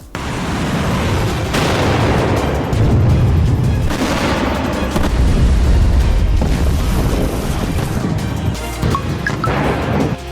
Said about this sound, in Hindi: इजराइल बीती रात भी गाजा, लेबनान और सीरिया पर एक साथ भारी बमबारी करते हुए नजर आया।